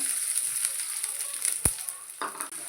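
Onions sizzle steadily in hot oil, a bright continuous hiss broken by a sharp utensil clink and stirring scrapes.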